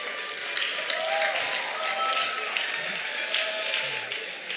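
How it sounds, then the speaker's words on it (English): A congregation claps during a church sermon: steady, dense applause fills the space while voices carry on over it. "See, they are clapping because they know I'm the only one that can say this thing."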